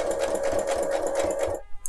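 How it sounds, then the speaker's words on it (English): A sewing machine runs steadily, topstitching a small seam opening on a garment, its close, even motor hum continuous for about a second and a half before stopping abruptly. "I am going to top stitch this little opening right here"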